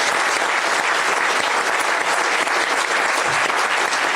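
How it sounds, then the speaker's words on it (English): A crowd at a live celebration event applauds warmly, steady dense clapping at even loudness throughout, with no voices over it. "please give her a very warm round of applause"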